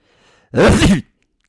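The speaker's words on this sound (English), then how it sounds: "I sneezed." A single loud, close sneeze, a sharp burst after a faint intake of breath, then silence.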